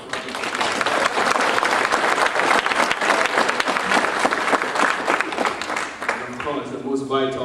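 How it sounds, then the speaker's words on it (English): An audience at an Upward Bound award ceremony applauds the staff with loud, dense clapping and a few cheers, steady for several seconds before tapering as a voice begins speaking near the end. "So let's give them a round of applause."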